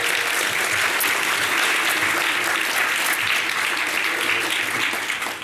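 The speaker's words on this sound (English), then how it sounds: "I have to give you a round of applause." An audience at a kid governor inauguration ceremony claps steadily and evenly throughout, a dense and fairly loud wash of applause that holds constant before easing slightly at the end.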